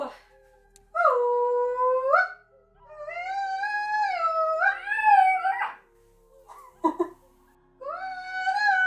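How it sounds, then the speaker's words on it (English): A dog howls along with a woman's high kulning singing inside a house in Sweden, long wavering tonal howls and sung calls overlapping and trading off close to the microphone, with brief pauses between phrases. "My dog sang along."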